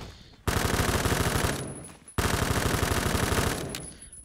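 Rapid automatic gunfire from the Phantom Forces online shooter game, two long loud bursts of closely spaced shots separated by a brief gap, with no voices.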